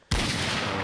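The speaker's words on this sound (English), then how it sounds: "So I'll start off with the 44 Magnum." A single sharp, loud gunshot from a .44 Magnum in the Minecraft Guns Mod, a sudden blast followed by a sustained harsh roar that fills the short moment.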